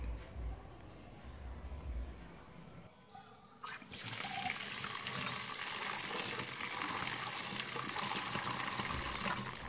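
Running water rinses freshly boiled peanuts, a soft tap trickle that turns into a steady, full gush of water splashing over them, close and continuous with no talking.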